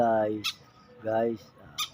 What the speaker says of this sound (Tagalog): pakainin natin yung ating alagang ibon na si Ice at si Pai.